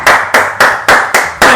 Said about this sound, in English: Give yourselves a super big clap